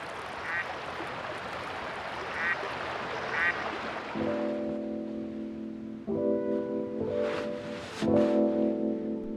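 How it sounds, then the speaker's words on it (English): Ruddy shelducks on a flowing plateau river give a few nasal honking calls early on, then a droning, harmonic tone comes and goes over steady running-water noise, with more calls near the end. "Ruddy shell ducks soon appear, wading and swimming on the flowing river."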